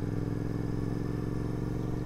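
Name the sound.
motorcycle engine accelerating while riding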